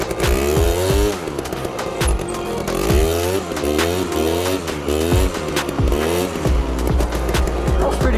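Quad bike engine revving hard during a wheelie, its pitch rising and falling in repeated surges with loud close throttle blips and a steady drone underneath, no talking.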